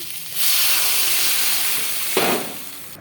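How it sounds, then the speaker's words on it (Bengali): Water poured into a pan of potatoes and masala brings a sudden loud hissing surge of steam and sizzle, sustained close up, then a second sharp burst near the end; no voices. "আমি এখন জল অ্যাড করে দিচ্ছি"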